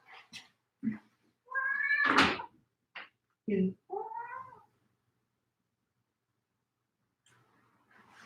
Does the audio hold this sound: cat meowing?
yes